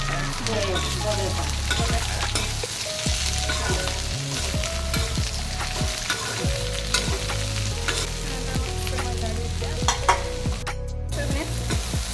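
Chopped taro stems sizzle and fry steadily in a hot pan, stirred now and then with a spoon scraping the metal, a continuous loud crackle with a brief quieter moment near the end.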